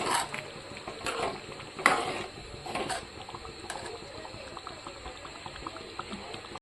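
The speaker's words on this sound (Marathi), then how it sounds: "मी इथे लो फ्लेमवर भाजी छान अशी उकळी मारून घेतलेली आहे।" Pav bhaji vegetable mixture simmering on a low flame, with thick bubbling and soft popping throughout and a few sharper pops near the start, close by and with no talking.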